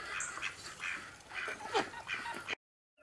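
Small ducks quacking in a farmyard, a quick series of nearby calls for about two and a half seconds before the sound cuts off.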